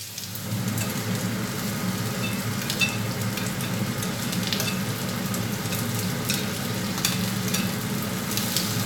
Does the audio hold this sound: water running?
no